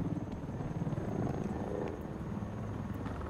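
A helicopter in the video game Batman: Arkham Knight produces a steady, low rotor rumble that holds at an even, moderate level throughout.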